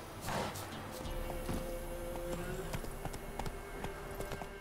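Horse hooves clip-clop in The Witcher 3, a steady run of sharp, close hoof strikes over game ambience with some background voice.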